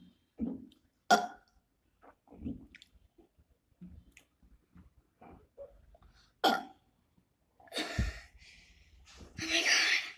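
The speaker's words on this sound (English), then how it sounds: "I'm horrible at burping, I will admit." Someone attempting a burping challenge produces a string of short, weak burps and gulping noises, with coughs and sighs between them, close to the microphone with quiet gaps.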